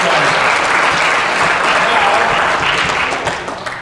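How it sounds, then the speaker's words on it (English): Applause for the coaches at a wrestling awards night, a loud, dense round of clapping from a crowd filling the room steadily before tapering off near the end, with speech mixed in. "Big round of applause for the coaches here."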